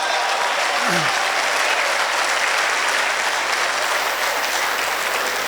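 A mushaira poetry audience applauds in a dense, continuous wash of clapping that stays loud and even for the whole stretch, with a brief voice rising over it near the start.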